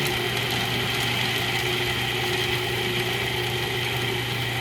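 A food processor whirls spinach pesto ingredients with black pepper before olive oil goes in, a steady close motor hum with a constant even drone throughout and no talking.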